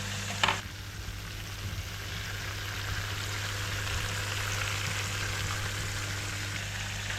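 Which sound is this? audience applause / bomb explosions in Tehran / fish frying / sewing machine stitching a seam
fish frying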